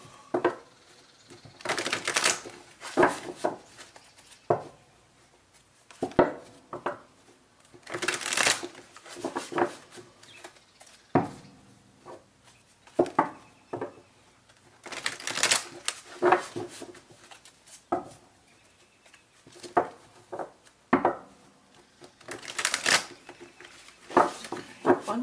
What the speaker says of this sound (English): One more shuffle here, and I think we'll be ready to cut the cards.